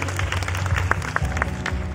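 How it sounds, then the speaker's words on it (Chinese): A crowd at a Gogoro press event breaks into dense, steady applause, a brief burst of many hands clapping together. "掌声欢迎。"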